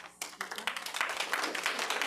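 A room full of people claps at a Common Council regular meeting, a dense patter of hands that starts abruptly and keeps going steadily at moderate volume.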